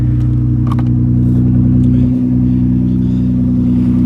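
A 1997 Toyota Camry XLE V6 idles close by with a steady, even hum under the open hood, with a few faint clicks and knocks over the drone.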